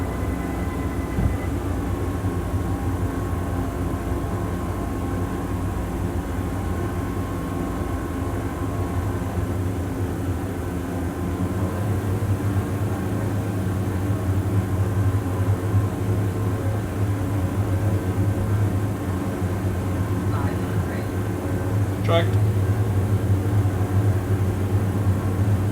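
Steady airliner engine drone during landing approach in a flight simulator game, a continuous low hum with faint tonal whine, alone and fairly loud throughout with a brief click near the end.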